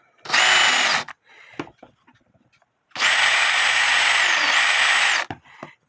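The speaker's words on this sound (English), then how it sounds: "Put these in your drill to clean the bigger holes." A power drill fitted with a cleaning bit clears the holes in the plates of an antique Black Forest wooden-plate cuckoo clock from around 1880. It whirs loudly in two bursts, a short one and then a longer one that shifts pitch.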